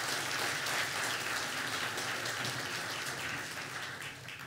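Steady, fairly faint audience applause fills the hall at a concert by a women's salon orchestra, continuing evenly throughout without voices.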